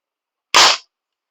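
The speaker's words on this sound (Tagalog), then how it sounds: "pwede siya pang warning shot kasi yung tunog talaga niya malakas" A single sharp crack from a PVC-converted AR-15 gel blaster toy gun, one loud, close shot that cuts off quickly in an otherwise silent moment.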